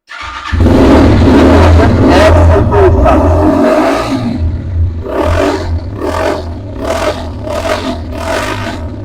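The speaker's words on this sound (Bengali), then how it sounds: "ইঞ্জিন সাউন্ড মার্শাল্লাহ একদম ইনটেক অবস্থায় আছে" A CRZ motorcycle engine starts up loudly and revs hard, then settles into a steady idle broken by several sharp throttle blips. It is close and alone with no talking.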